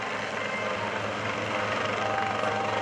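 Helicopter flying at a naval air station airshow: a steady, moderately distant engine and rotor drone with a continuous low hum, unbroken for the whole moment.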